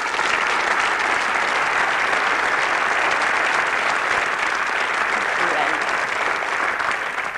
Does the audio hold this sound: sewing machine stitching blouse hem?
no